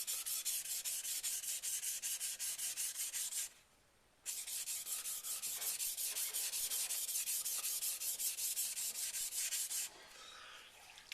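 Takeda kitchen knife with a low edge angle being sharpened on a whetstone, steady rhythmic rubbing strokes close up, with a brief pause near the middle as the fingers are repositioned on the bevel.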